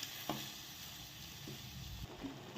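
Carrot halva simmering in ghee and milk, with a steady soft sizzle and a few spoon scrapes as it is stirred, close and fairly quiet, no voices.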